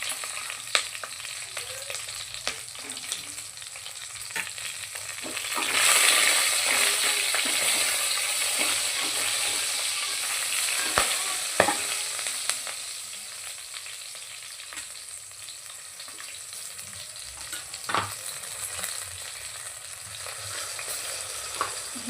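Whole cardamom pods and bay leaves frying in hot oil for chicken biryani: a steady, close sizzle that swells louder partway through, with occasional sharp crackles and pops and no talking.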